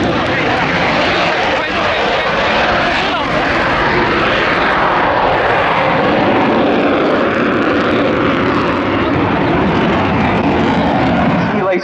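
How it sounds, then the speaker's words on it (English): Pair of French Navy Dassault Rafale Marine jets roar past loud and continuous at an air show, flying a simulated carrier deck bolter, a broad steady engine rumble with announcer talk over it. "Simulated carrier deck bolter, I'm pretty sure positively the final act before a final full stop landing by the lead aircraft from this pair of Rafales"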